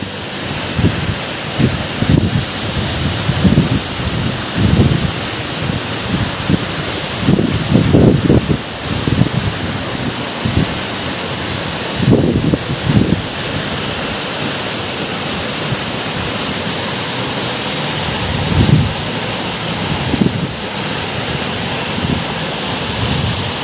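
Changey Falls waterfall at Kolakham, water plunging at great speed with a steady broad roar, close and loud throughout, overlaid by occasional gusts of wind buffeting the microphone.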